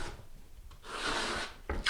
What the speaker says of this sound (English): I'm just going to skim the whole area.